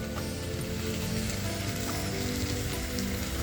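Spice paste is poured into Peshawari kadai pork and sets off a steady, dense sizzle and crackle of frying in the pan. It stays close and even throughout with no talking.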